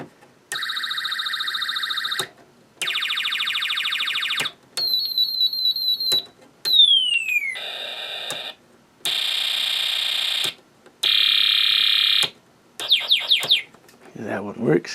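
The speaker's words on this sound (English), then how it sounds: "here we have our Space War IC set up, and it should have us put the sounds on when we use the push switch and our slide switch" A Snap Circuits Space War IC set produces a series of loud electronic sound effects switched by push and slide switches: steady beeping tones, rapid warbles and falling sweeps in short bursts separated by brief gaps, with a quiet voice in the clip.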